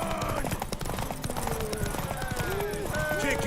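Horse hooves pound in a fast, steady clip-clop during a race in The Witcher 3, mixed with game music and other busy sound; a voice calls out over it.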